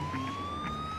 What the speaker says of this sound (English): I hear your ambulance.